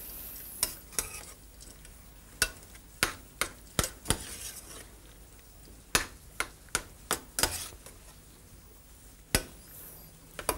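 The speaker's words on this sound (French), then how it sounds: "Et l'on mélange le tout." A spoon stirs a tart filling of chard, pastry cream, raisins and pine nuts in a saucepan, giving a run of close, irregular clinks and scrapes against the pan over a quiet background.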